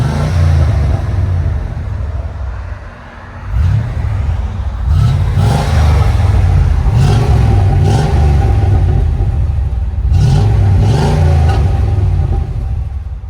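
A 1997 Chevy 1500 truck with a 5.7L V8 and Flowmaster Super 50 Series exhaust idles with a deep, throaty rumble, then revs several times in loud bursts close by.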